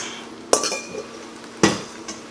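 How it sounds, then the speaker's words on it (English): Browned and seared Andouille sausage dropped into a Dutch oven for chili, with two sharp metallic clanks of utensil against the pot about a second apart and a faint rattle after each. "we're gonna add our 2 pounds of Andouille sausage back in here that's been browned and seared"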